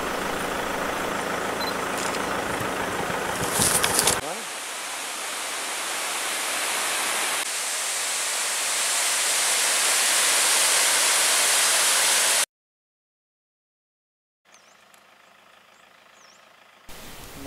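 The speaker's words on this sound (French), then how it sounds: "l'eau ne manquera pas, car les cascades coulent partout" Steady broadband rushing of waterfalls and flowing water near stilt houses in the mountains of northern Vietnam, loud and continuous, then a brief silence before a quieter stretch of water ambience.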